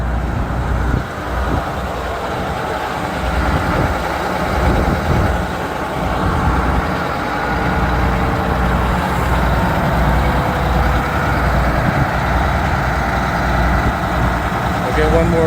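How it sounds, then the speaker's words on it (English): An STM city bus engine idles nearby in a street, a steady low rumble that runs unbroken throughout with no revving, joined by faint traffic and street noise. "Let's listen to the engine."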